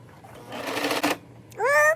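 A sewing machine stitching jeans during alterations, a brief rapid mechanical whirring burst of about half a second, followed by a short voice at the end.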